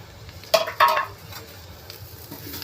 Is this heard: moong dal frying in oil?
yes